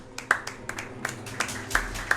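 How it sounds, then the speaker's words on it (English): A small online race audience claps sparsely, a handful of separate, faint claps spread unevenly over a couple of seconds, with light background noise underneath. "I think we can clap a bit."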